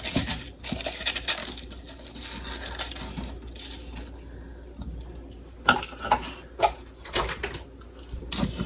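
Crushed ice gets tipped into a protein water drink cup, giving scattered clinks, rattles and small icy patters at close range, with a brief run of louder clatters toward the end.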